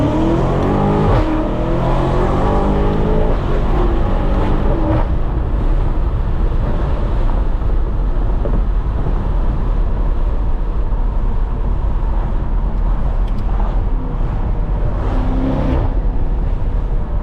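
A BMW F90 M5 Competition accelerates at full throttle in second gear, its engine a loud, sustained roar that rises in pitch from inside the cabin, with no one speaking.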